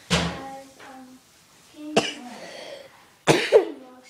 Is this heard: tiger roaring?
no